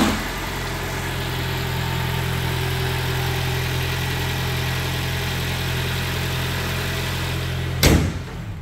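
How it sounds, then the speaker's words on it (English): A 2014 Lexus ES300h hybrid engine running at idle, a steady low hum with a constant drone close by, ending in a short sharp knock near the end. "Sometimes it takes the hybrids a little second to fire up"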